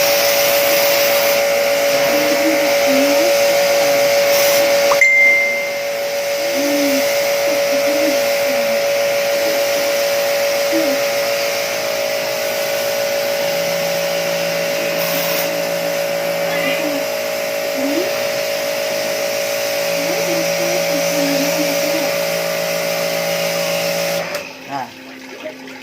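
A new electric pressure washer runs continuously with a steady, loud humming whine that holds for about twenty-five seconds, then cuts off near the end, while someone talks over it.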